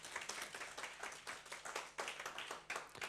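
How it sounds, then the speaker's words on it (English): Audience applause for a speaker at a lecture on Web 3.0 and the Mediverse, a steady patter of many hands clapping with a dense, slightly distant texture and faint voices beneath. "On peut l'applaudir."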